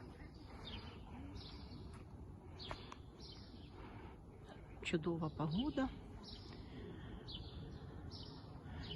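Birds chirp and tweet in repeated short calls outdoors on a fine day, with a pigeon-like coo in the middle and someone briefly speaking over the steady background.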